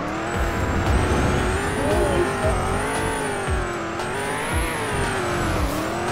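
Engine noise from a car in a Roblox crash arena video game, a loud continuous synthetic drone that rises and falls in pitch as it revs, heard alone without talk.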